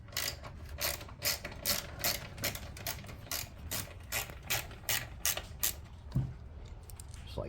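A hand ratchet loosens 8mm bolts on the lower filter housing of a 2015 Hellcat 6.2L Hemi, giving rapid bursts of sharp clicking strokes, close and loud, repeated about a dozen times.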